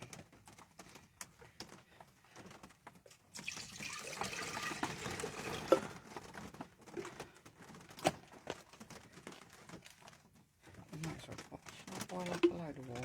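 Bottled water pours into a container while camping, a steady liquid rush lasting a couple of seconds amid room noise and intermittent soft clinks, with a person talking around it.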